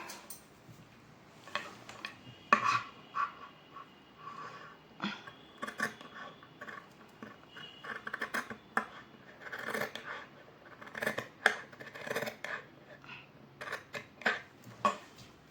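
Scissors cut through blouse fabric and lining to shape a back neck design, a run of close, crisp snips and rasping cuts repeating irregularly throughout, with no talk.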